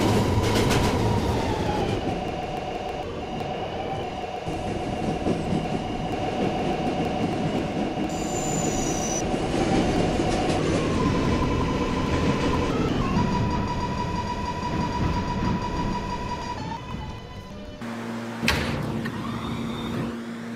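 An R211 subway train running in the Roblox game: steady rolling rumble with clickety-clack, motor whine shifting pitch, and brief squeals and tones, continuous and fairly close with no speech.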